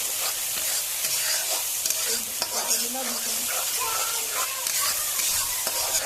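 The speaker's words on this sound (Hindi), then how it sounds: "आउ 5 मिनिट पर्यंत आमे आकु मिक्स करूबा" Masala for an Odia-style home fish curry fries and is stirred in a pan, a continuous loud sizzle and hiss broken by scraping spoon strokes, close up with no talking.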